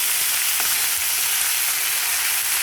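Food sizzling steadily in an iron wok (kadai), a constant dense hiss with faint stirring scrapes, close and loud, with no talk.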